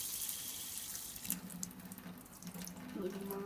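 Water from a tap runs steadily into a bowl of mashed banana for a DNA extraction, a close, continuous splashing stream with a faint voice underneath.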